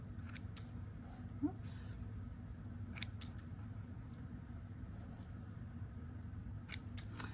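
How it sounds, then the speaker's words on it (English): Scissors snip through ribbon and lace at a crafting table, a few crisp cuts spread across a low steady hum, with a brief spoken word partway through. "I angle cut the ribbon."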